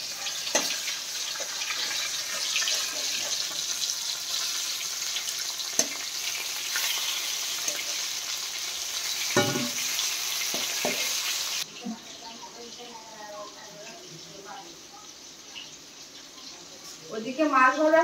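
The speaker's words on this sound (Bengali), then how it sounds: "ওদিকে মাছ ভাজা হচ্ছে" Fish frying in a pan sizzles loudly up close with occasional pops and stirring clicks, then the sizzle drops to a quieter hiss as a person talks over it near the end.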